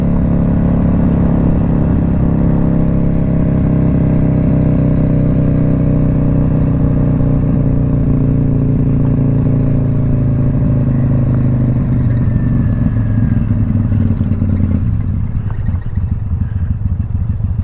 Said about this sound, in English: I'm just doing wheelie and donut practice.